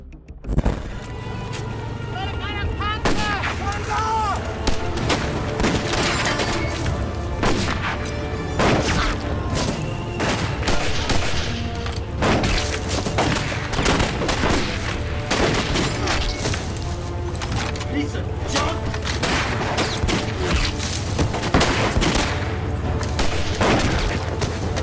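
Battle sounds of machine gun and rifle fire in a forest, with dense bursts and heavy booms layered over music-like tones, continuous and loud throughout.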